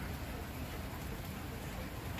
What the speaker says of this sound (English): Yes, it is raining out here.